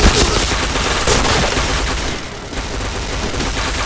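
Gunfire in the PointBlank shooting game: loud, close bursts of rapid shots packed together, dipping briefly before the firing picks up again.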